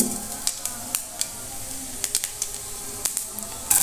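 Whole cumin seeds sizzle in hot oil with a steady crackling hiss, punctuated by small sharp pops, close and fairly quiet, with a brighter spatter of crackle at the very end.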